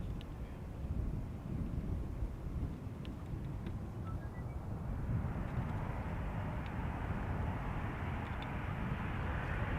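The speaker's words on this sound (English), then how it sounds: "Sunwing Airlines flying for TUI as flight TUI flight 1532, arriving from Ibiza." A Sunwing Airlines Boeing 737 flying for TUI arrives from Ibiza at Schiphol Airport: a steady broadband jet roar that swells gradually as it approaches, with some wind buffeting on the microphone and no talking.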